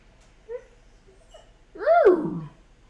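A dog gives a couple of short, soft whimpers, then one louder, drawn-out whining yelp-bark near the mic during an indoor training session with a paw trick, against a quiet background.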